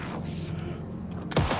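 Gunfire in the video game Alan Wake 2: a single sharp, loud shot cracks out near the end over a dense, low ambient game rumble.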